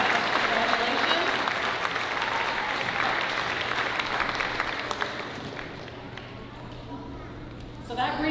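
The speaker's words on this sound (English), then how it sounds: "So a big round of applause for all the scholarship and bursary recipients" Audience applauding scholarship and bursary recipients at the Wiikwemkoong post-secondary graduation ceremony, steady crowd clapping that gradually thins and fades, with a brief louder burst at the very end.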